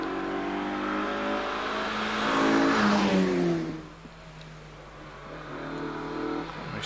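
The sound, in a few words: Mazda MX-5 race car on hillclimb course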